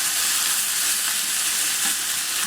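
Apples and rhubarb with brown sugar cook in a pan, giving a steady, close sizzling hiss that holds evenly throughout with faint stirring scrapes.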